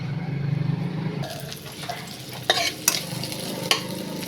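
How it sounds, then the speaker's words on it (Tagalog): Red onion frying in a pan, a steady low sizzle with a few sharp scrapes and clicks of stirring close by, and no voices. "So, niluluto ko na yung red onion."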